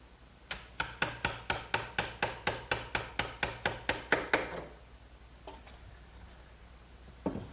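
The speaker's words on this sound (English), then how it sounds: "I'm just removing the excess with a good sharp chisel." A sharp chisel removing excess wood from a shoulder cut on a trestle table: about sixteen crisp, evenly spaced knocks in quick succession, then a pause and a couple of stray taps in a quiet room.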